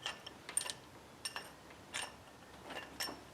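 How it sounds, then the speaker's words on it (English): Ratchet wrench clicking in short bursts while backing bolts out on a Subaru during a camshaft position sensor job, faint metallic clicks spaced apart with quiet gaps. "So I'm just going to back these bolts out a little bit."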